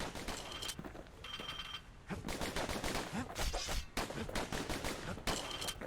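Dual pistols firing in Bastion, a quick rhythmic stream of sharp shots in rapid succession, loud and close, broken by brief gaps before more bursts.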